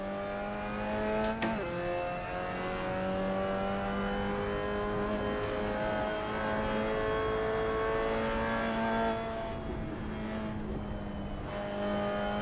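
Race car engine in the Assetto Corsa racing game holds a steady high drone that climbs and dips as the car takes corners, with a brief gear-shift break near the start; loud, continuous, no talking.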